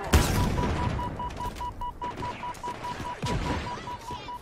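Explosions and gunfire in Halo Infinite during a pillar assault, a dense mix of booms and rapid shots with repeated loud bursts over several seconds and no talk.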